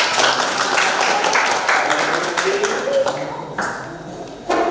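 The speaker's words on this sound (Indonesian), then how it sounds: "Oke, kita beri tepuk tangan." Guests clap together at a Batak traditional wedding blessing and feast, a dense, steady round of applause filling the room, with voices murmuring underneath and a brief fresh burst near the end.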